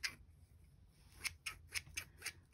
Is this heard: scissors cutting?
yes